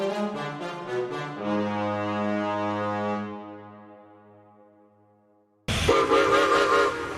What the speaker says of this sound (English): Whistled Edward.